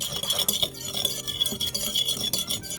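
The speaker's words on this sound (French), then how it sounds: "Et ensuite, je vais y ajouter beurre fondu. Puis on va mélanger." Lamb pieces being stirred with a pinch of salt and melted butter, a utensil scraping and clinking steadily against the pan in close, continuous rhythm with no voices.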